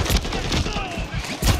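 Full-auto weapon fire rattles through a Modern Warfare III firefight, rapid overlapping gunshots with heavy low thumps, loud and continuous across the short span.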